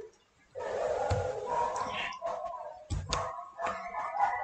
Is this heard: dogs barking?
yes